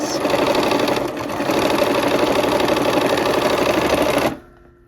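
A sewing machine stitches fabric with the needle left in the down position. It runs as a steady, close, loud mechanical whir of rapid stitching for about four seconds, then stops abruptly.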